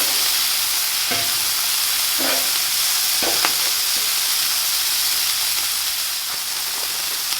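Bread fries on a hot griddle beside a smash burger, bacon and beef patty, giving a loud, steady sizzle and hiss, with a few scrapes and taps from a spatula. No one talks.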